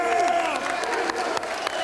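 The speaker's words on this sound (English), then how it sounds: "Look at the fans just standing up applauding." A wrestling crowd at an XPW event stands and applauds, a dense wash of clapping and cheering with a commentator's voice talking over it.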